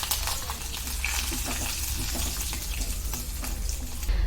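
Cumin, curry leaves and dried chillies are tempered in hot oil while cooking gongura peanut chutney, giving a steady, loud, close sizzle and crackle with occasional spits, heard alone without talk.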